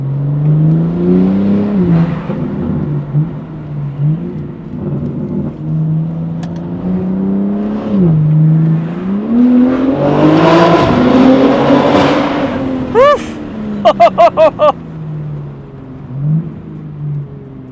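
A BMW G8X M3/M4 with a DCE catless downpipe exhaust is heard from the inside, its engine rising and falling through repeated revs before a loud acceleration surge, followed by a rapid string of sharp pops and crackles, then settling back down.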